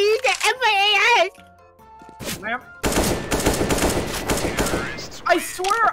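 Rapid bursts of M4A1-S rifle fire in the video game CS:GO crackle loudly between stretches of excited voices, the shots clustered in a dense run through the middle.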